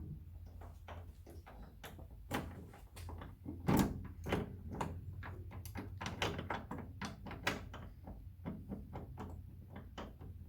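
Keys being tried in the stiff door lock of a Rover P5 MK1 car: a long string of close metallic clicks, scrapes and rattles at an uneven pace, with no speech.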